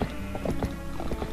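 Epona, the horse in the video game Twilight Princess, gallops with rapid rhythmic hoof clops over a steady background bed of game sound.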